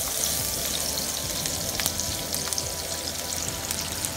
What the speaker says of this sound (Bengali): পেঁয়াজটা ভাজা ভাজা হলে আমি সব মশলাগুলো দিয়ে দেব একে একে।